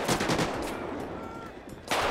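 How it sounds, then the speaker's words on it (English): Bursts of automatic gunfire crackle in a GTA 5 police-mod shootout during a military patrol, with a loud volley at the start and another near the end, a quieter stretch between. "who's shooting at you?"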